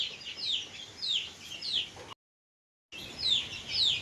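A domestic hen of a small native breed clucks and chirps in short repeated calls, close and clear, with a brief silent gap midway.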